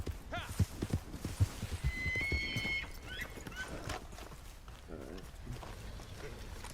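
Hooves clip-clop at a steady gallop, then a horse neighs loudly in the middle; Red Dead Online game sounds with no speech.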